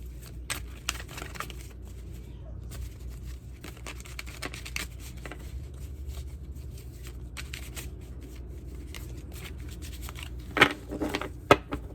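Angel cards shuffled by hand for a reading, a soft steady papery patter of riffling and sliding cards running throughout at close range, with a few sharper snaps and taps near the end and no talking.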